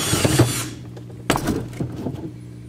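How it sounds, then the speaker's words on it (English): A drill bores a hole into a Predator 212 small engine part, with a short burst of drilling, a pause, then a second brief grinding bite, close and moderately loud. "Drill a hole basically 45 degrees in this little area here"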